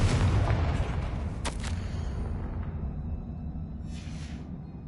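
Confringo, an explosive spell in Hogwarts Legacy, goes off as a loud close boom that fades into a rumbling decay, with a couple of sharp crackling bursts following.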